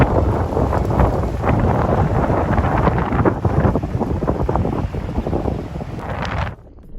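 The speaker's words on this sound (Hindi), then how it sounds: "आज ना बहुत डस्टी वेदर है, बहुत हवा चल रही है" Strong wind blows outdoors on a dusty day, buffeting the microphone in loud, continuous gusts that cut off abruptly at the end.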